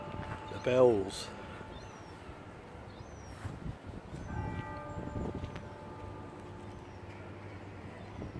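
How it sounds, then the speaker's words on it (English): Church bells ring in Christchurch, Dorset, sounding as sustained tones in the middle of the recording. Outdoor ambience and a brief voice near the start accompany them, and the bells carry on quietly to the end. "The bells."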